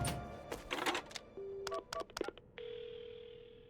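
Telephone keypad tones from the Paranormasight video game, a rapid series of short dialing beeps followed by a steady ringing tone, clear and close with no talk.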